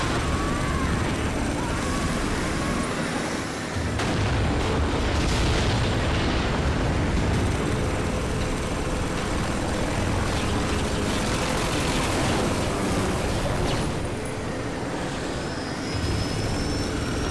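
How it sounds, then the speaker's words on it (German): Helicopter gunfire and explosions in the video game Spec Ops The Line: a dense, continuous roar of rotor noise, shots and blasts that fills the whole stretch, loud and with no pauses. "Da geht's auch schon los. Mit Helikoptergeballer."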